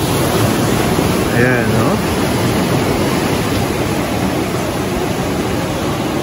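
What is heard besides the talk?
ocean waves breaking at Cloud 9 surf spot, Siargao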